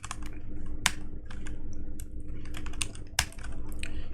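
Rapid keystrokes on a computer keyboard while JavaScript code is typed, a steady close clatter of uneven taps with a few sharper key strikes, heard alone.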